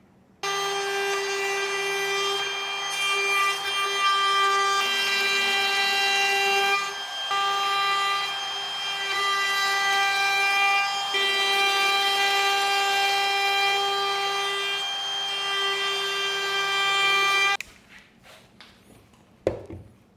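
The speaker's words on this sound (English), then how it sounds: "So I've got a 45-degree chamfer bit in my router" A router with a 45-degree chamfer bit cuts a heavy chamfer along a wooden outfeed table edge, a loud steady high whine with a slight dip midway, stopping abruptly near the end with a few clunks.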